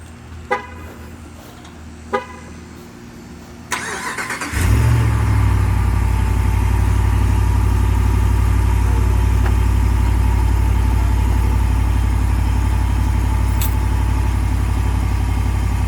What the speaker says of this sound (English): let's get a cold start in here just so you can listen.